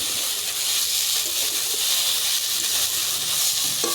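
Potatoes fry in a covered pan on a home stove, giving a steady, bright sizzle and hiss throughout, with a faint clink near the end as the lid is lifted and the potatoes are stirred.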